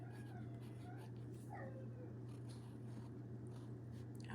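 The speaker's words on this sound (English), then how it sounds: "I hope you didn't hear my dog whining" A dog whines softly in the background, a few thin rising and falling whimpers over a steady low electrical hum, faint and distant.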